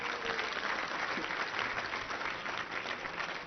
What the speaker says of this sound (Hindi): इसके लिए भी आप लोग तालियां बजा दें।